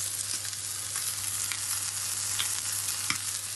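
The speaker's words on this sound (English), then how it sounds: "So this steak now has had its final sear on the other side" John Stone beef steak sears in a hot pan with a steady, close, even sizzle and crackle that runs unbroken throughout, with no voices.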